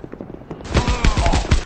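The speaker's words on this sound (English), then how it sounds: "Frost, I'm shooting this guy forever." Dense automatic gunfire from the mobile shooter Guns of Boom, a rapid volley of loud, close shots bursting in after a brief quieter lead-in and hammering steadily to the end.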